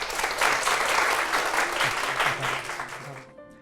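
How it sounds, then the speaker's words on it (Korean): A talk concert audience applauds in thanks for Professor Jeong In-suk and her teacher Professor Kwon Hyo-ok. The clapping is dense and lively for about three seconds, then quickly dies away. "우리 감사의 박수 함께 해주시면 감사하겠습니다"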